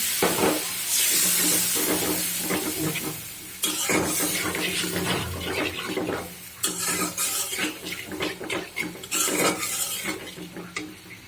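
Spice paste for a green banana and egg curry sizzling in a wok after water is added, with metal utensil clinks and scraping stirs over a steady frying hiss.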